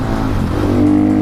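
A KTM 500 EXC supermoto motorcycle engine revs loud and close, its steady buzzing note climbing slightly in pitch toward the end, with no talk over it.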